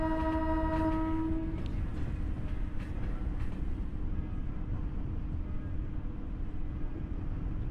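A Chennai Beach to Tambaram fast local train in the Train Simulator Railworks 3 game, a short horn blast at the start, then a continuous loud rumble of the train running at low speed.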